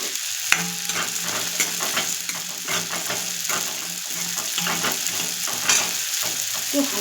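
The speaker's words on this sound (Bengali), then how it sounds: "এবার বড়িগুলো আমি সামান্য অল্প তেলে একটু ভেজে নেব" Broken lentil bori fries in a little hot oil in a kadai, giving a steady close sizzle with crackles and scraping stirs throughout, and no one speaking.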